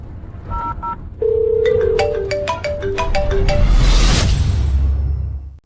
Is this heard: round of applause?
no